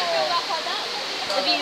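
An artificial waterfall at the Eden Project gives a steady, close, broadband rush of falling water over a grille, with a person speaking over it for much of the time.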